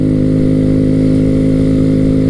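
A 2014-2016 Honda Grom 125 motorcycle engine drones loud and close in a steady, buzzing run, with no talk over it.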